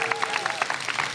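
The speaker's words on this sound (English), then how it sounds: "Can we give a round of applause" Audience applause at a hackathon showdown event, a dense burst of clapping from a crowd filling the room.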